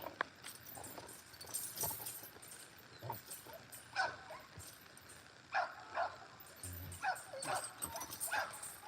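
A hard-biting working dog, a rough-type female, barks in short scattered bursts while being worked on a springpole, with some whimpering and movement noise between the barks.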